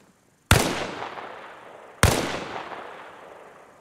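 Two sharp gunshots about a second and a half apart in a modded Tarkov-style shooter game, each a loud crack with a long echoing tail that dies away slowly; no voices.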